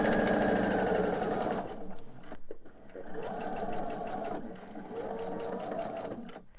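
A sewing machine stitching quilt star blocks with a quarter-inch seam, running in steady close-up bursts with short pauses between runs.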